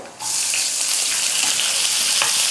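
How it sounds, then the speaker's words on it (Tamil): A sudden loud sizzle as chopped onion hits a hot pan, continuing as a steady, close frying hiss with a faint clink near the end. "இந்த வெங்காயத்தை சேர்த்துக்கிறேன்."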